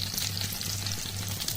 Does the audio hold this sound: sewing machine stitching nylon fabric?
no